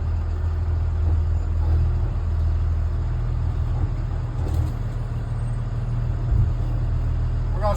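A school bus rumbles as it pulls off the road, its engine a steady low drone with continuous road noise and no break.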